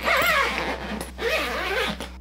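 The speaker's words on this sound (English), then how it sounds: "What I'm gonna do is take this zipper right here." Two quick zipper pulls up close on Monos expandable carry-on luggage, each a raspy rising zip, separated by a brief pause.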